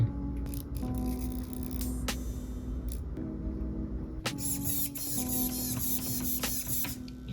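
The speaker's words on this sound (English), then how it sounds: "Definitely hear the upgraded power from the stock servo" An upgraded servo motor on an SCX24 RC crawler whirring in short bursts as it swings back and forth, close up, with a sharp buzzing, higher-pitched run near the end.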